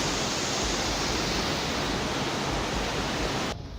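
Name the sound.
waterfall gushing in the Western Ghats after rain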